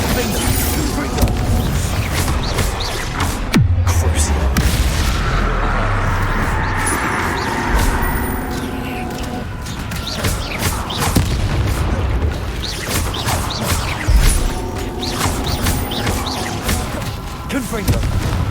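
Repeated Confringo fire-blast spells in Hogwarts Legacy burst as heavy booms and crashes amid busy combat noise, with a sharp impact around a few seconds in and talk scattered over the sustained clamor.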